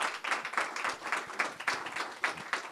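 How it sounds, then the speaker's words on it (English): Applause for a new mayor at an apartment project kickoff event, steady dense clapping from a modest crowd, close and continuous without speech. "A round of applause for our new mayor."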